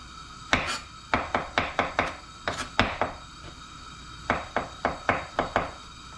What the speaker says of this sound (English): In the meantime, we'll be slicing our tomatoes, our mushroom,